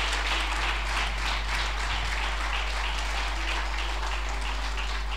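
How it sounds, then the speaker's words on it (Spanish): A church congregation applauds continuously, a thick sustained patter of many hands over a constant low electrical hum, with no talking. "Dale un aplauso al Rey de Reyes."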